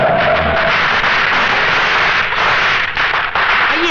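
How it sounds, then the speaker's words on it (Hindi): Firecrackers set off in celebration outside a family home in a Hindi film scene, a dense, continuous crackling barrage that stays loud and steady throughout with no talk over it. "ये आपके आने की खुशी में पटाखे चलाए जा रहे हैं।"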